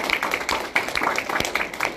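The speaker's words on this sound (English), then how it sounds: "Please join me in a round of applause to acknowledge our students' accomplishments." Audience clapping at an adult program graduation ceremony, a steady patter of many hands in a room, moderately loud and continuous for about two seconds with no voices over it.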